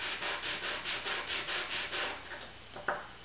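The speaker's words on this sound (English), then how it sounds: "you need to rub it across the cabinet maker's sandpaper, working with the grain of the wood several times" A small wooden tag is rubbed back and forth across cabinet maker's sandpaper along the grain, giving about eight quick, even rasping strokes, close and quiet, ending with a light tap.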